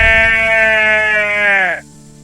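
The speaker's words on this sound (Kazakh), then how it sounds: "Қой қалай маңырайды?" A sheep bleats once in a loud, sustained, wavering call lasting nearly two seconds before cutting off, close and clear with no talk over it.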